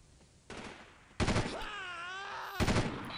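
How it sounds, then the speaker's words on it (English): Gunfire in Delta Force 2 comes as a few sharp, separate shots with echoing tails, one louder blast near the middle followed by a wailing groan-like voice sound, then another shot. "one guy is firing at you, I can see that guy taking shots at you"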